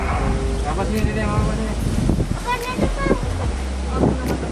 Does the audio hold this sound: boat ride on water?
yes